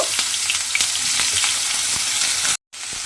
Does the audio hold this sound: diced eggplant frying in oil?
yes